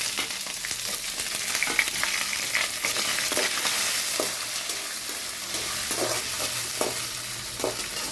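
Small onions, about 50 grams, sizzle and fry steadily in a pan for a chicken curry, with a spoon stirring and scraping at irregular moments; the sound is close and continuous, with no voices.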